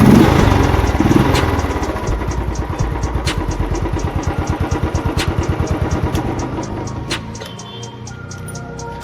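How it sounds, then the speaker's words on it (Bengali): Royal Enfield Classic 350 BS6 single-cylinder engine runs after a full master service, a loud, close, rhythmic thumping that holds steady before easing and fading toward the end, with a few sharp clicks and knocks. "ইঞ্জিনের সাউন্ড শুনতে পাচ্ছেন"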